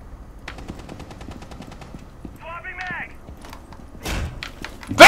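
Gunfire in Rainbow Six Siege, a rapid burst of automatic shots followed by a couple of heavier bangs, with someone shouting over the shooting.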